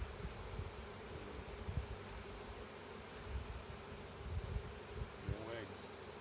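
Agitated honeybees drone constantly around an opened hive during a split inspection, a thick, unbroken buzz with occasional handling bumps and a brief voice near the end.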